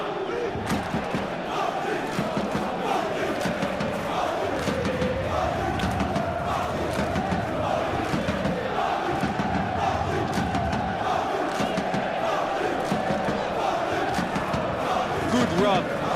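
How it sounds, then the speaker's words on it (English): Stadium crowd noise from the PES 21 football video game, a steady roar with rising cheers and applause that fills the whole stretch at a consistent, fairly loud level. "The crowd appreciates good football all round there"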